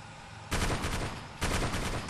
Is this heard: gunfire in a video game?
yes